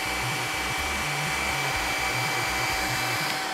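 A Makita heat gun and a hot-air soldering station blow together in a steady, loud, unbroken whoosh of air with a constant fan hum and a faint high whine.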